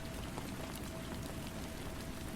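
Steady rainfall with a constant, even wash of drops and no talking over it.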